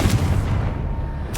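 A Confringo spell blast in Hogwarts Legacy lands as a heavy, booming low rumble that fills the moment, followed by a short sharp crackle at the end.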